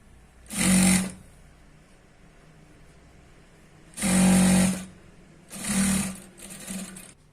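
A sewing machine stitches a churidar pant in three short runs, each a loud steady whir lasting under a second, separated by quiet pauses.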